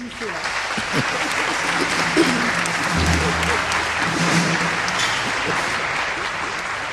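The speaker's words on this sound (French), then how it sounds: "Applaudissez-la." An audience at a televised spelling competition claps steadily for several seconds, a full even round of applause with faint low voices murmuring beneath it.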